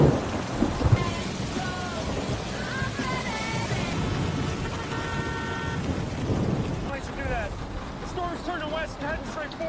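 A violent thunderstorm with heavy rain lashes a car driving toward an old house in a low-lying, flood-prone area, with a steady downpour, rumbling thunder and a voice speaking over the storm.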